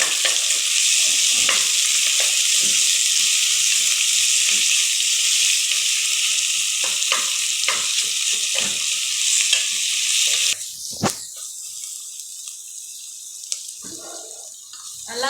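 Onions sautéing in a pan for mushroom biryani: a steady, loud broadband sizzle with scattered clicks of stirring, dropping sharply after about ten seconds to a quieter, thinner crackle.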